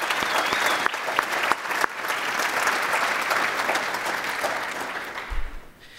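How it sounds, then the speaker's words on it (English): An audience at a Kansas State University event claps for mentors, a dense, steady round of applause that carries on throughout and fades slightly at the end. "Let's please give these mentors a round of applause for all their efforts they put in."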